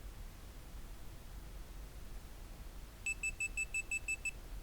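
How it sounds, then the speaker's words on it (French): After a quiet hiss, a rapid series of about eight sharp electronic beeps sounds in a regular pattern: a Cessna S550 Citation II cockpit warning alarm test in X-Plane 11. "D'ailleurs on peut tester nos alarmes."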